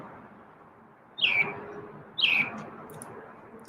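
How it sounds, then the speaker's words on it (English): A pet bird gives two short chirps about a second apart, each bright and fairly close, over a low background hum in a quiet room. "gonna let Chirpy talk for a bit"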